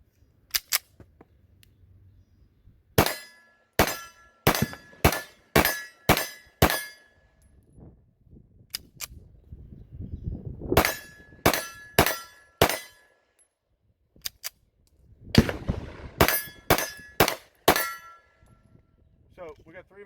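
A Springfield Prodigy 9mm pistol fired from a 20-round magazine, heard as sharp, ringing shots in quick strings of several rounds, broken by pauses and handling clatter, loud and close.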